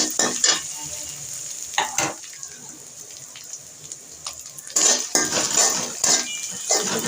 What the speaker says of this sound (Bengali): একটু পেঁয়াজের সাথে ভেজে নিচ্ছে